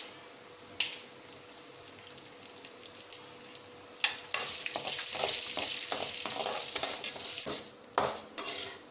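Urad dal and chana dal roasting in a pan for ridge gourd chutney, with a soft sizzle that swells louder as a metal spoon stirs and scrapes against the pan, close up.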